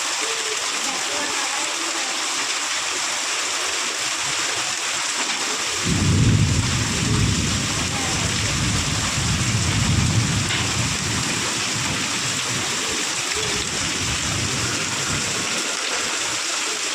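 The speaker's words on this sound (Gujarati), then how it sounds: "વરસાદ આવે" Heavy rain pours steadily in an outdoor rural setting while a deep rumble of thunder rolls through for several seconds, with voices talking at times.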